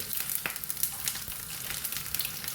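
Cinnamon, cloves, ginger, garlic and cashews frying in hot oil give a steady, close, crackling sizzle with small pops throughout, heard alone without any voices.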